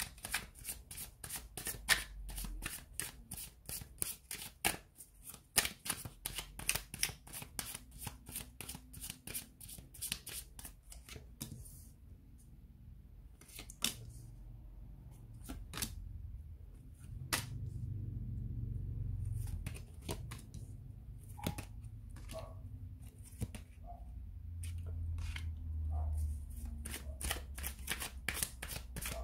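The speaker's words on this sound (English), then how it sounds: "give the cards a shuffle" Tarot cards are shuffled by hand in quick runs of crisp riffling flicks and soft slaps, close and clear, pausing now and then, with a low hum in the background.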